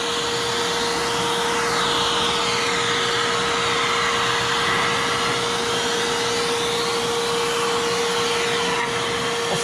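A Harbor Freight Bauer 6-gallon shop vac runs steadily and loud, a constant motor whine and rushing airflow holding one pitch throughout with no voices.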